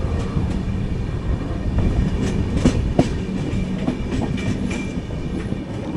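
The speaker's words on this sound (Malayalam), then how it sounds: "ജസ്റ്റ് ഒങ്കോൾ സ്റ്റേഷനിൽ കയറുന്നു" Jan Shatabdi Express train rolling into Ongole station, heard from an AC chair car as a loud, continuous rumble with rhythmic clickety-clack of wheels over rail joints and occasional sharper knocks.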